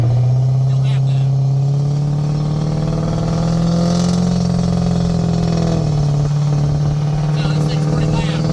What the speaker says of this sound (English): Now, this thing's pretty loud.